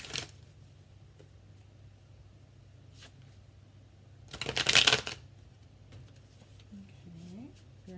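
A deck of Modern Love Tarot cards is riffled in one quick, crisp burst midway through an otherwise quiet stretch. Soft rustles and a few small handling taps come before and after.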